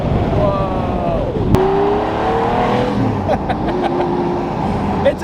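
A 2004 Pagani Zonda with its V12 engine revs loudly and continuously, pitch sweeping up and down in repeated climbs with a sharp transient midway, close and dominant throughout.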